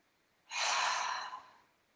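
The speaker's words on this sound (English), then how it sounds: "So I'm breathing in." A single slow, deep inhalation during a yoga core-activation exercise, an airy breath drawn in close to the microphone for about a second, rising quickly then fading, alone in quiet surroundings.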